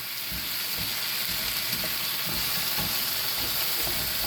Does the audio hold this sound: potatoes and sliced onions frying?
yes